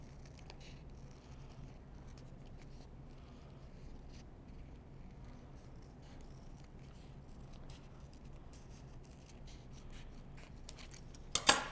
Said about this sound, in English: And then we're just going to carefully cut our design out.